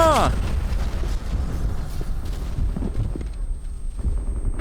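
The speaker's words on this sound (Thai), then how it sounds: "ระเบิดมา" A big explosion booms in the video game Sniper Ghost Warrior, a heavy low blast that opens loud and rumbles on with debris and game noise, while someone talks over it.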